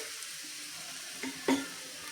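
Thalipeeth frying in oil on a pan, giving a soft, steady sizzle close by with a couple of brief louder crackles, no voices.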